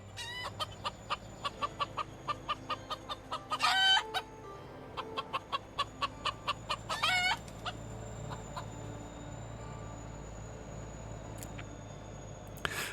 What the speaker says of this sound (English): I hear the calls of the chickens as well.